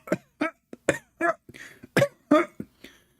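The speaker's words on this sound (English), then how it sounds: "His wife, she start coughing." A person coughs repeatedly in a rapid, choppy series of short bursts, close and fairly loud, with brief gaps between them.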